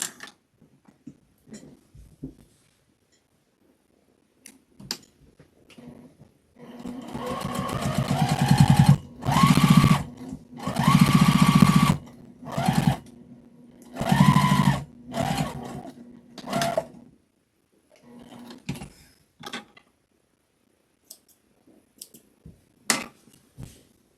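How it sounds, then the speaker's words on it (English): A sewing machine stitches in the ditch across the seams of a patchwork mug rug. Several loud whirring runs of rapid stitching are separated by short pauses, with faint clicks and handling noises before and after. "Now I'm going to stitch in the ditch across each one of these."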